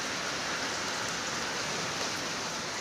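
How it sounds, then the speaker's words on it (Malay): Heavy rain pours down steadily during a flood in Sibu, forming a dense, even wash of noise that stays loud and unbroken from start to finish with no voices. "Hujan guys, banjir guys."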